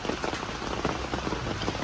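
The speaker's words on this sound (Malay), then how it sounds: "Hujan. Hujan. Padahal lama tak hujan dah ni." Rain pours steadily onto surfaces at a campsite in Batang Kali, Selangor, a close, continuous patter of drops with no voices.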